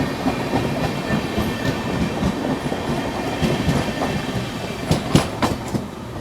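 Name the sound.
trains running on parallel tracks, special train overtaking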